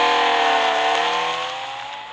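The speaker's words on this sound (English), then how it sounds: "Up next is my 1962 Ferrari 250 GTO." A 1962 Ferrari 250 GTO's engine in the racing game Real Racing 3 holds a steady, loud, high-pitched drone that slowly drops in pitch over about two seconds as the revs fall off, with no talk.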